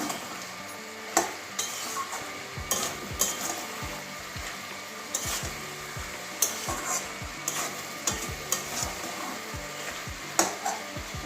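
Bottle gourd and prawn curry stirred in an open pan over medium heat, a soft bubbling sizzle broken by regular clinks and scrapes of a spatula against the metal, close and unvoiced.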